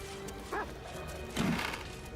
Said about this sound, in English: you go barking again.